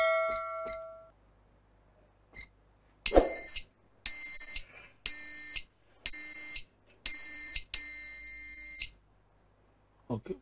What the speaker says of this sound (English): Okay, one blip, the alarm is set.